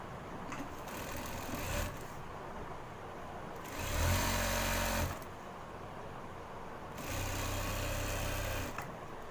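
An electric sewing machine stitches a pant belt in two separate bursts of a few seconds each, a close, steady motor whir with rapid needle chatter and quiet pauses between runs.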